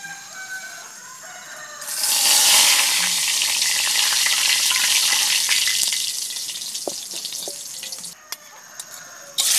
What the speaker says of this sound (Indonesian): Goreng ikannya sudah mengering.